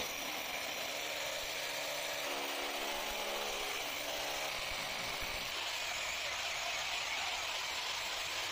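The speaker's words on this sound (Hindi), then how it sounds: "अब हम ड्रिल मशीन से होल करके ले लेते हैं" A power drill whines steadily throughout, a loud continuous drilling noise making a hole during kitchen sink plumbing, with a brief shift in pitch midway and no voices.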